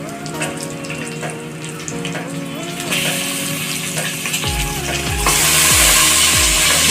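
Mutton cooking in oil in a pan, a loud steady sizzle and bubbling with stirring, rising to a brighter hiss toward the end, with a melodic tone running underneath.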